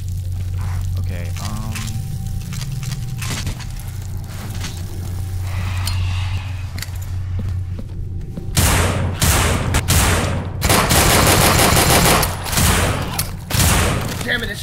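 Rapid gunfire bursts from a zombie survival shooter, loud and close, clustered in the second half after a stretch of lower ambient noise and game sounds.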